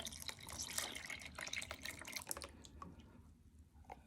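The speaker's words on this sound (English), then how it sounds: "we're going to add our other 2 cups of milk" Milk poured into thick pumpkin butter mochi batter, a soft steady liquid splash and trickle at close range that tapers off near the end.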